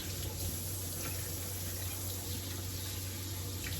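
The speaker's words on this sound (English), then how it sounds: "Just running it under like a lukewarm water." Lukewarm tap water runs steadily over lettuce in a sink, a constant close-up splashing rush with a low hum beneath it.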